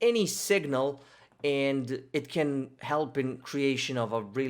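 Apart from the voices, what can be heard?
No everyday noise stands out behind the speech.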